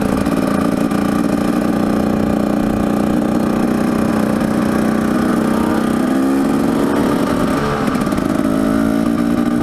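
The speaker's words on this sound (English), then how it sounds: "Warming the bikes up." Several dirt bike engines idle together at 7,900 feet while warming up, a loud, steady, rumbling drone with slight shifts in pitch and no speech.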